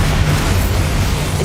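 A Bombarda blasting spell detonates in the Hogwarts Legacy video game inside a tomb, a loud, sustained low boom with rumbling body that fills the whole moment without any talk over it.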